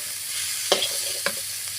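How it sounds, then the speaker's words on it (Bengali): Something stirred in a hot frying pan gives a brief, steady sizzle, with two sharp scrapes of a spatula against the pan. "সুন্দর করে নাড়াচাড়া করে একটু ভাজা ভাজা মতো হয়ে যাবে"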